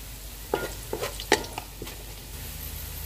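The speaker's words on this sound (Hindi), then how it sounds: "ऑयल गर्म हो गया, इसमें प्याज डाल देंगे।" Onions drop into hot oil for mutton Sindhi biryani, giving a few soft scraping stirs over a steady, close hiss of frying.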